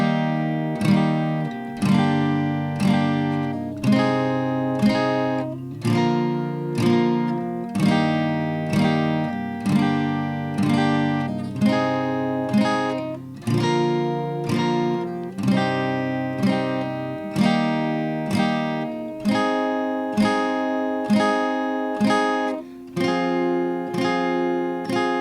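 Acoustic guitar strumming the chorus chord progression of a song, steady rhythmic strums with regular accents, clear and close, played alone for the whole stretch.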